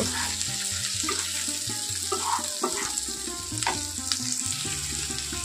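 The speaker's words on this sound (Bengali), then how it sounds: "টমেটোটা এই পেঁয়াজের সঙ্গে একটু ভালো করে নাড়াচাড়া করে নেব" Three chopped medium tomatoes are stirred with onions in a frying pan, making a close, steady sizzle with soft scraping and clicking from the stirring. A low, stepped tonal sound runs underneath.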